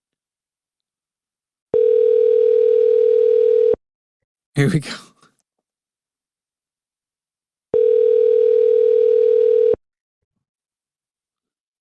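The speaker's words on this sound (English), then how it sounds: "Hearing these ringtones." Ringback tones on a Google Voice phone call: two steady electronic tones, each about two seconds long and roughly six seconds apart. A brief spoken remark falls in the gap between them.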